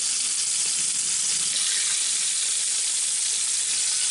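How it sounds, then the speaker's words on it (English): Rabbit pieces browning in olive oil in a hot Dutch oven for a winter rabbit Marsala braise, giving a steady, close, loud sizzle and crackle of frying meat that runs unbroken throughout, with no talking. "Dutch oven's nice and hot. We're going to go ahead, start putting our pieces in there, and we're just going to brown them"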